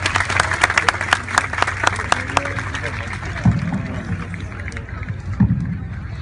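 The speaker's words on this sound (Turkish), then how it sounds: "Alkışlıyoruz öğrencimizi." An audience applauds a student who won a middle-school poetry competition, a steady patter of many hands with sharp individual claps standing out, fairly close and moderately loud, with some voices underneath.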